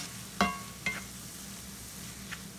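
Spoon stirring turmeric through cauliflower rice in a pan, a few soft scraping clicks over a faint continuous sizzle.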